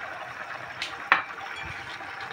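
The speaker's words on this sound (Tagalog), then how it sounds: "Ihalo lang natin yung dahon ng pechay" Pechay leaves stirred into a frying pan, a few soft scraping strokes and a brief knock over a gentle background sizzle, close and quiet.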